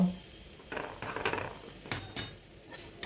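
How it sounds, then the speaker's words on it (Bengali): Onions with a pinch of sugar and garam masala being stirred in a frying pan: a few quiet scraping strokes and a sharper metallic clink near the end, over faint sizzling, close and sparse. "সব শুদ্ধ নাড়া দিয়ে মিশিয়ে নেব"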